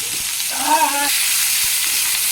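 Crushed garlic and green chilli fry in hot oil in a pan, giving a loud, steady sizzling hiss throughout, with a brief voice heard over it.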